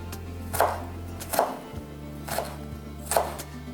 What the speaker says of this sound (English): I cut the ginger like matchsticks first, then I cut again so they look like tiny cubes.